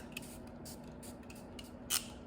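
Makeup setting spray misted in short bursts, several soft hissing puffs at close range, with one louder spray near the end and no talking.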